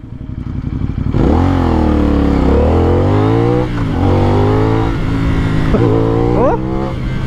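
A CF Moto 450NK motorcycle with a 270-degree crank revs hard after a cold start, its engine and exhaust rising and falling through several loud, close blips with a rough, throaty tone.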